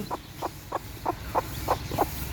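A brooding domestic hen that has just hatched chicks clucking in a steady rhythm, about eight evenly spaced low clucks, close by and alone without talk.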